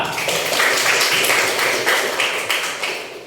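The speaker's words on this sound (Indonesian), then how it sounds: "Oke, tepuk tangan untuk Dita." Schoolchildren in a classroom clapping together, a close, bright patter of many hands in quick uneven bursts that fades toward the end.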